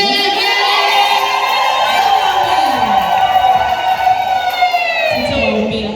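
A congregation at a Sunday service in FPCT Mgaraganza church, Kigoma, ululates together in loud, sustained high trills that swell and waver over several seconds.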